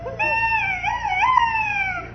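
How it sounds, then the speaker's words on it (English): A duck call carved from a turkey bone is blown in one long, wavering, reedy note that bends in pitch and sounds more like a howl than a quack, clear and close. "That noise was a duck call"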